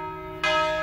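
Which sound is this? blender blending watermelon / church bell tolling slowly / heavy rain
church bell tolling slowly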